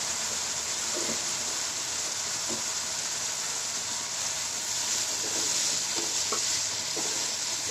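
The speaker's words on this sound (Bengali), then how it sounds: "ওই মশলাগুলো ভালো করে কষিয়ে নেব যেন কাঁচা গন্ধটা না থাকে।" Spices frying in a pan with salt and turmeric, a steady close sizzle throughout with occasional soft stirring scrapes and clicks, no voices.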